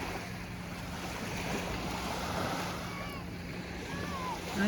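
Waves washing onto a well-kept beach in Puglia, Italy, a steady close surf wash with wind rumbling against the microphone, no talk.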